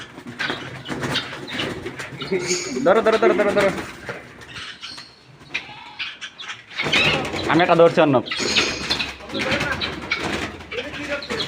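Farmed birds, apparently pigeons or doves, flap their wings and call in bursts while being caught, close by, as people talk and shout over them.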